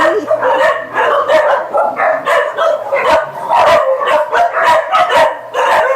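Several dogs at an animal sanctuary bark repeatedly and close by, overlapping yaps and barks in quick, uneven bursts with hardly a pause.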